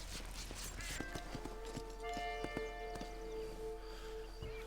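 Horse hooves clop steadily and rhythmically in Red Dead Redemption, a run of distinct hoof strikes over a constant low hum and soft game ambience.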